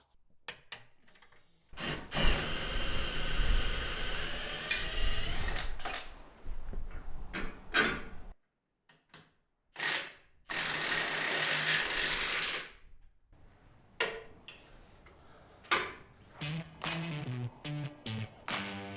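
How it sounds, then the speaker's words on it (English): A ratchet wrench torques an upper control arm bolt on a Jeep Rubicon LJ, giving bursts of rapid clicking and grinding mechanical rasps with short pauses between pulls, close and moderately loud. "I'm going ahead and torquing this upper control arm."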